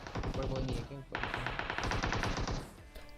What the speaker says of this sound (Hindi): और आगे गोलियां पूरी जान लगा के चल रही है।